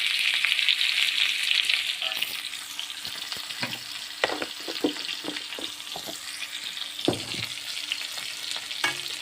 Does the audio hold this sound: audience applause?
no